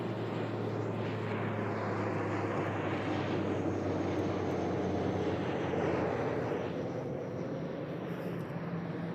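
Engine roar from an aircraft climbing away from Christchurch Airport in heavy fog, a broad sustained rumble that swells slightly and stays steady, heard alone without talk.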